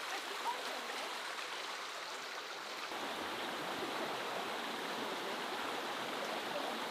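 The West Webburn River runs across open moorland with a continuous, soft rushing murmur of flowing water, steady and fairly distant, with no voices over it.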